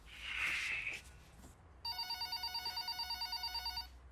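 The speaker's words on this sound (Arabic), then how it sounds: "بوش التليفون بيرن قوم رد" A telephone rings with a rapid electronic trill in one continuous burst lasting about two seconds, coming right after a brief shrill noise.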